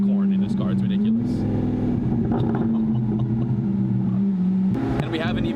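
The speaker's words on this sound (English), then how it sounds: "A lot of downfires, a lot of backfires, like burbles, cracks, and pops." A Lamborghini SVJ supercar rumbles at low speed with a steady engine drone, its exhaust crackling and popping in bursts, with a sharper flurry of cracks near the end, while people talk over it.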